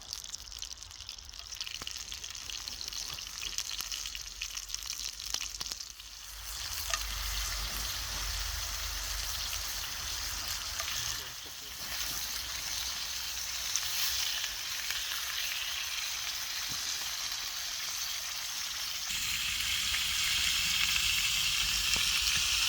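Squirrel meat frying in oil over an open fire outdoors, with a continuous close sizzle and crackle that grows louder and brighter toward the end.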